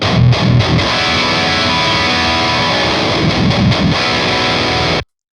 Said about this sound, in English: it's an 8-string guitar with 8 strings. I have it tuned to drop E